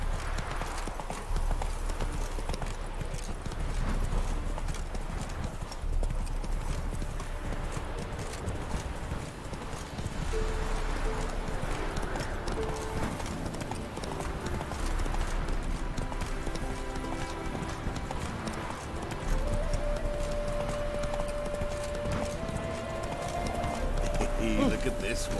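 In The Witcher 3, the horse Roach gallops with a fast, continuous clip-clop of hooves, joined briefly by a whinny while someone talks over the galloping.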